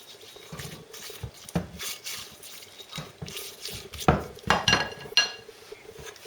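Dough for traditional Greek Easter bread, tsoureki, being placed back into a bowl with olive oil squeezed over it, giving soft wet squelches and light clinks against the bowl, close by and intermittent.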